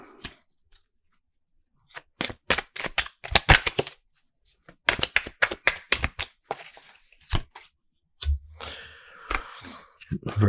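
Tarot cards being shuffled by hand in quick clusters of crisp flicking and snapping bursts, separated by short pauses, close by.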